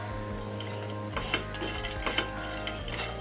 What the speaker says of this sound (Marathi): सुकं खोबरं पहिलं आपण भाजून घेऊया